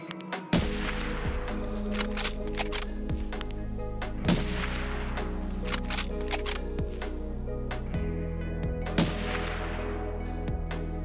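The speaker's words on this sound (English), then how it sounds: "That's the AK, man." AK rifle gunfire in a video game, with sharp, close shots fired in short bursts and single cracks over an even background hum, loud and with no voices.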